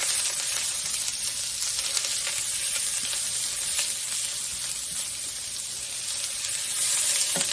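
Chopped onion sizzling in hot oil in a pan as salmon filling is prepared: a steady, close, bright hiss of frying that holds for several seconds, with no one talking.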